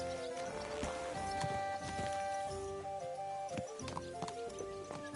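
Hooves clip-clop steadily on a hard surface, with rhythmic knocking over a low background and a faint animal sound.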